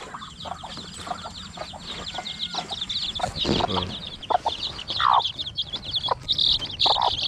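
Chickens cluck and chirp continuously on a farm while being fed, several birds close by with overlapping, busy calls.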